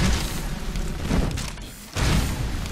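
A fire spell cast in Skyrim, a steady rushing roar of flame that dips briefly in the middle before surging back strongly.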